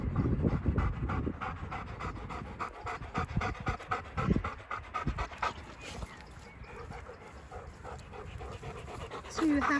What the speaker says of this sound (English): Two happy dogs.